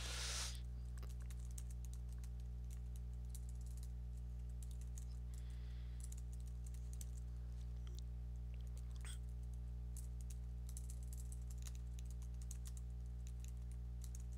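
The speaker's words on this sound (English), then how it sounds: "I will give that as soon as I am done with typing these out" Quiet typing on a computer keyboard, with faint soft key clicks tapping in irregular runs over a strong steady electrical hum throughout.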